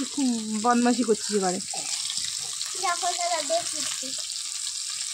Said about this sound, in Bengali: চলো ভাজি মাছ।